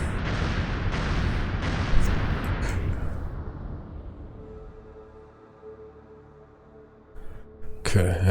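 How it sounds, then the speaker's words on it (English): A heavy underwater explosion in the submarine game Dangerous Waters roars loud and long, then slowly fades into a low rumbling tail with a hum beneath, before another noisy burst at the end. "Loud explosion on the bearing of Master 7."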